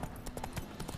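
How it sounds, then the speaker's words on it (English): A horse's hooves clip-clop in The Witcher 3: Wild Hunt: a soft, steady patter of hoofbeats, faint under a dense game soundscape. "A ver cómo se mueve el caballo de Metal Gear"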